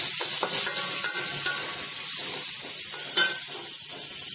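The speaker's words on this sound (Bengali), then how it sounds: "ভালো করে মশলাটাকে কষিয়ে নেব" Spiced masala with chopped tomato and salt being stirred and fried for a chicken curry, a steady close sizzle with scraping stir strokes and a few sharper clinks of the spatula, no talking.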